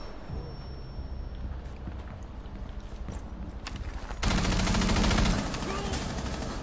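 Gunfire in a tactical shooter video game comes through the floor, with scattered shots and bursts at first, then a louder, denser volley of rapid fire that fades back toward the end.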